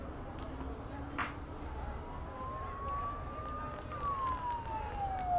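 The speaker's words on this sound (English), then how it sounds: "Don't those sirens sound really close?" A police siren wails faintly in the distance in Persona 4 Golden, its tone sweeping slowly up and down under a low ambient rumble, with brief chatter from people mixed in.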